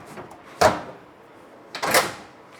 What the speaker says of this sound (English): Let me shut it and see if it still shuts properly.